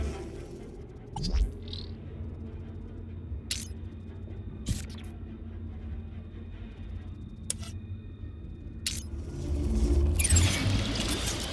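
In the video game Beyond a Steel Sky, a water tank refills with a steady mechanical hum. A few sharp clicks break it up, and a rushing pour swells near the end.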